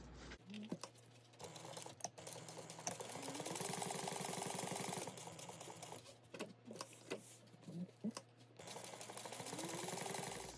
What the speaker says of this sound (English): we're going to sew around the 3 sides